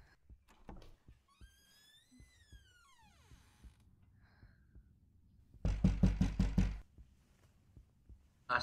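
Loud knocking on a door in a horror film: a tight burst of about eight heavy, rapid knocks that stands out sharply after a quieter stretch of faint thuds and a sweeping eerie tone.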